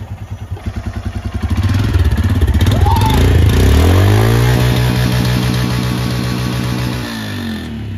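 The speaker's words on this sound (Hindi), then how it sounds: "बाइक वार्म स्टार्ट हो गई है, अभी चलते हैं।" A warmed-up motorcycle engine idles close by with a steady pulsing putter, then revs up into a loud, sustained drone before settling back to a lumpy idle.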